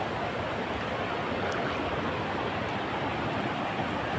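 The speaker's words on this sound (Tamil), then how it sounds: "ஓடை என்கின்ற வாய்க்கால்களிலிருந்து எவ்வளவு தண்ணீர்கள் வருகின்றது என்பதை நீங்கள் பாருங்கள்" December 2024 floodwater pours from channels over a causeway, a loud, continuous rushing roar with no pauses and no voices.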